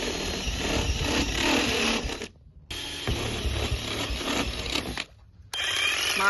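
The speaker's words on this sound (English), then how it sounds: "I'm just going to drill out a couple of the corners and then cut it out with the jigsaw" Loud, continuous grinding and rattling of a drill and jigsaw cutting metal on a van roof for a fan install, broken by two short pauses, close and harsh with no talking.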